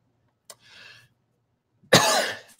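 A person coughs during a photography tutorial live stream: a soft short cough and breathy exhale, then after a pause one loud, harsh, close cough.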